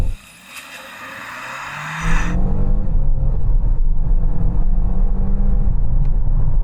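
A car engine roars up as it accelerates hard from 0 to 60 during a road test, the pitch climbing steadily and holding loud and close, with no voices over it.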